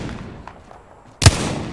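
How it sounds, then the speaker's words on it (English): A single sharp burst of enemy gunfire in the Apex Legends video game cracks out loud and close after a stretch of low background ambience, then tails off quickly. "The enemies are shooting at me."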